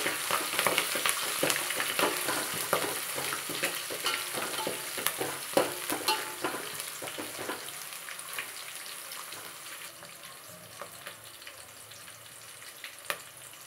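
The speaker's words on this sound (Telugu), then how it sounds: "కట్ చేసి పెట్టుకున్న పచ్చిమిర్చి ముక్కలు, ఉల్లిగడ్డ ముక్కలు వేసి బాగా కలుపుకోవాలి" Green chilies and chopped onions frying in a pan with oil for Telangana bhagara rice, a steady crackling sizzle with spatula scrapes and clinks throughout, close and fairly loud, easing slightly toward the end.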